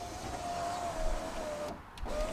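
An electric window regulator on a Mini lowers the car window with a steady whining motor hum that pauses briefly near the end and then resumes. It sounds close and alone.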